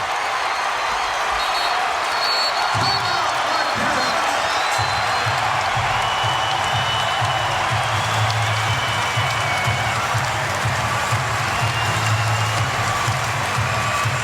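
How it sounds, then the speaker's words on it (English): A college basketball arena crowd at a Providence versus Marquette game roars with sustained cheering and applause, a dense, loud wall of noise that holds steady throughout, with an announcer talking over it. "Ron Perry, suddenly this crowd has come alive"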